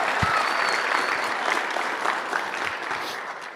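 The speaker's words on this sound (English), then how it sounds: "Give her a round of applause," An awards-ceremony audience breaks into a loud round of applause for a woman being honoured, dense clapping from a large crowd that gradually tapers off.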